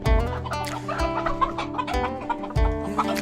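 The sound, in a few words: chickens clucking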